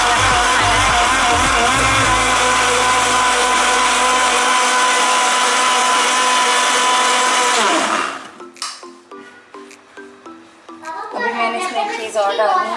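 A kitchen blender grinds mint and coriander chutney in a loud, steady whirring roar for about eight seconds, then cuts off abruptly, leaving a few small clicks and knocks before a voice resumes speaking.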